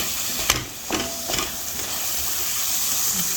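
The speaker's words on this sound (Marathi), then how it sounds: "पुन्हा हे छान परतून घ्यायचं तेल सुटेपर्यंत" Masala with red chilli powder and a pinch of sugar fries in oil for a gravy, making a steady close hiss and sizzle, with a few sharp scraping stirs early on.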